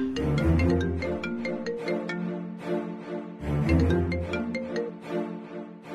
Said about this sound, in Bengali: শোনো না, আবার রাধা দিদির ফোন